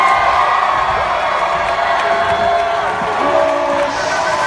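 A crowd cheers, whoops and applauds at a poetry showcase, a loud, dense wall of voices sustained throughout with shouts rising above the roar.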